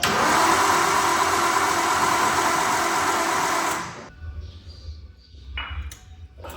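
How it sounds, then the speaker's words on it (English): A Nissan Laurel engine cranks loudly and steadily for about four seconds, then cuts off abruptly, leaving a quieter low hum with faint clicks. "So it does crank, and it's cranking healthily."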